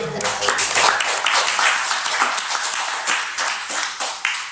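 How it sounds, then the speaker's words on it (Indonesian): People at a school podcast recording clap together in dense, continuous applause, close and fairly loud, with some voices mixed in. "Boleh tepuk tangan dulu."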